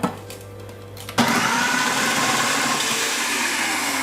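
Electric food processor chopping onions, a sudden loud whirring motor that starts after a second of quiet and runs steadily and close at full speed until the end.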